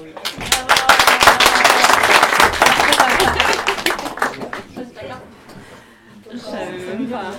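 A small audience claps at a poetry reading, loud and uneven for about four seconds with some chatter and chuckles, then fading into quieter talk.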